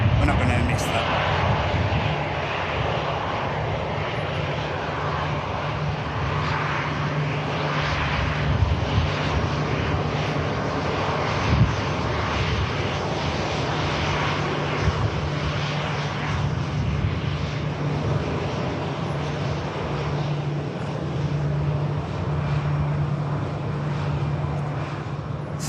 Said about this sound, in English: The aircraft's just on the taxi now.